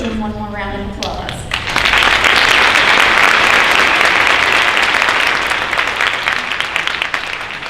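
A high school senior honors night audience breaks into loud, sustained applause that swells quickly after a few words from a voice at the start and keeps going at full strength.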